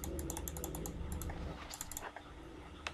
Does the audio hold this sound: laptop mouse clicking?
yes